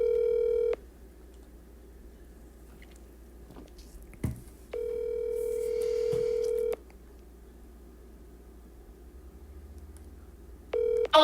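Telephone call tones: three steady ringback tone bursts, near and clear, separated by quieter gaps with a brief click partway through, with no talking.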